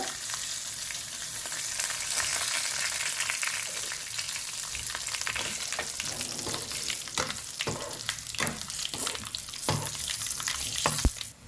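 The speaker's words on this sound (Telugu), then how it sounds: "కరివేపాకు వేసుకుందాము. ఇప్పుడు ఇంగువ వేసుకుందాము కొద్దిగా." Curry leaves and a pinch of asafoetida hit hot oil for a tomato chutney tempering, producing a loud, continuous sizzle with frequent stirring scrapes close by and no talk.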